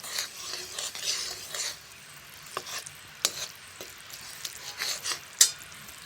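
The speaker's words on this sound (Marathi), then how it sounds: "गूळ सगळा विरगळपर्यंत हलवायचं" Jaggery with a splash of water being stirred in a pan until it melts, a soft broadband scraping hiss with faint sizzle and a few sharp utensil clicks against the metal, close and alone.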